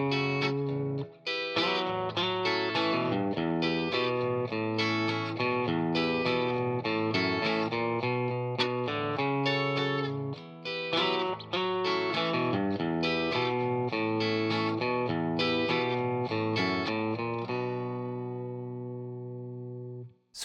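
Electric guitar plays the opening riff of a song, a repeated line on the lower bass strings starting on B, with effects-laden tone and steady rhythmic notes for about seventeen seconds before ringing out alone.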